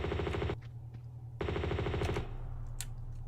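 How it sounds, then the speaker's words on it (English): Rapid automatic gunfire in the Tomb Raider 2 video game comes in two dense bursts of clattering shots, with brief quieter gaps and a steady low game background hum between them. "there's a guy shooting"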